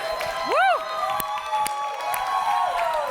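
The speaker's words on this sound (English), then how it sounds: "I need a cheering section like Valeria's." Audience at a university innovation awards ceremony cheering and whooping, with a rising-falling shout over steady crowd noise and scattered claps, loud and close throughout.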